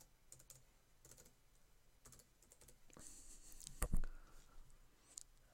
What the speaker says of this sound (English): sorry, I don't talk when I'm typing